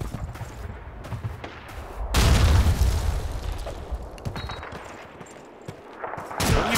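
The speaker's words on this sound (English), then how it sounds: "That's a grenade." A grenade blast and gunfire in the World War II shooter Call of Duty 2: steady rattling shots, then a loud booming explosion near the two-second mark, followed by more scattered gunfire, with no voices over it.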